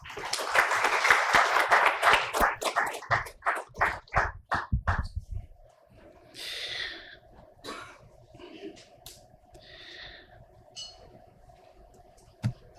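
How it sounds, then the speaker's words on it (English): An audience at a conference's inaugural session applauds at a moderate distance, a dense burst of clapping that thins into scattered claps and fades out, followed by quiet room noise with a few faint sounds. "Please welcome him with a big round of applause."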